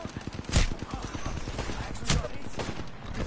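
Rapid automatic gunfire from the Apex Legends video game, a steady fast stream of shots with two heavier blasts, fairly quiet and continuous throughout.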